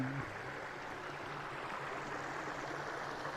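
A river flows with a steady, close, broadband rush of water, continuous and unchanging throughout, with a brief low sound at the very start.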